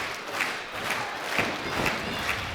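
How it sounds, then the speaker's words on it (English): A wrestling crowd at an independent show cheers and roars steadily, with recurring bursts of louder shouts and chants rising over a constant wash of noise. "Tommy Starr getting the crowd behind him early."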